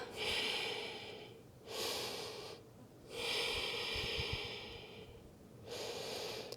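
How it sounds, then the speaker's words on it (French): Slow, deep breathing in and out through the nose, held in a beginner Hatha yoga posture, with four long drawn breaths alternating with short pauses, close and clear with no talking. "Inspire, expire."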